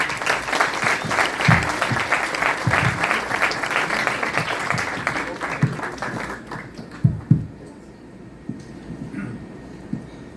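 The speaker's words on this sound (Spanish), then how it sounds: "Con un fuerte aplauso, por favor." A strong round of audience applause greeting a speaker at an academic lecture on science policy, loud and dense before thinning out into a few scattered claps and quiet room noise.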